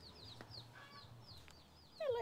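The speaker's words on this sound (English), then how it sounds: "Hello, chicken!" A chicken in the Cambodian countryside gives faint, soft clucks and short calls. A louder, closer squawk comes at the end.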